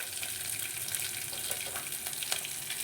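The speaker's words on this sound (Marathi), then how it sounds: "जिरे दोन हिरव्या मिरच्या घालून घेतलेल्या आहेत" Cumin seeds and two green chillies frying in a pan for sambar: a steady, soft hissing sizzle with small crackles, continuous and fairly quiet.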